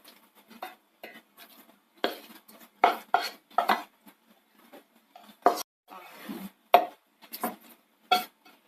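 A cooled sautéed onion-and-spice mixture for red chicken curry is scooped into a mixer jar, giving a series of close, irregular metal spoon scrapes and clinks against steel separated by brief quiet gaps.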